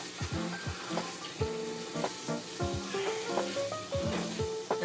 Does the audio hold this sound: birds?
no